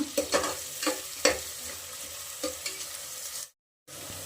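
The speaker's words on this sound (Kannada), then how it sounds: "ಸ್ವಲ್ಪ ಈರುಳ್ಳಿ ಫ್ರೈ ಆಗಬೇಕು" Onions frying with salt in a pan for tomato bath, steady close sizzle with several sharp stirring scrapes and clinks, then a brief dropout of silence near the end before the sizzle resumes.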